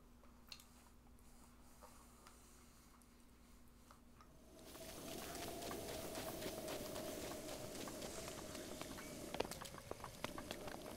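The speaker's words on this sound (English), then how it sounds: "And it's raining, isn't it?" Steady rain in the video game The Legend of Zelda: Breath of the Wild, patter and hiss building up partway through, a dense broadband wash with occasional sharper drops, alone without talk.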